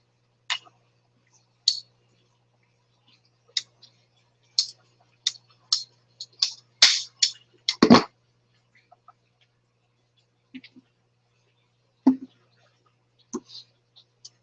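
A pipe being cut in half while building an aquaponics T-syphon gives a sparse run of sharp, close clicks and snaps with quiet gaps, peaking in a quick cluster of cracks partway through.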